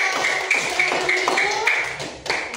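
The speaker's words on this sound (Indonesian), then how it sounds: "Tepuk tangan untuk kelompok 2" A classroom of students claps for a presenting group, a brisk run of sharp, close hand claps with faint voices mixed in.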